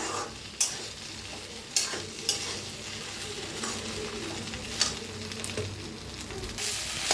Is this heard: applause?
no